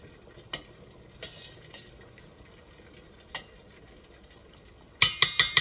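A spoon stirs comfrey salve in a pot as it melts, giving a few sparse clinks and scrapes at a quiet level, then a quick run of sharper metallic taps near the end.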